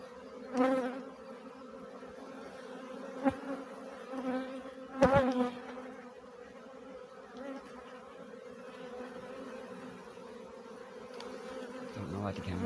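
Swarm of bees buzzing around and inside a box, a dense continuous drone with a few louder close passes and light knocks, heard from nearby.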